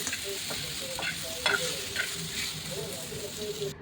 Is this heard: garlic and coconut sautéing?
yes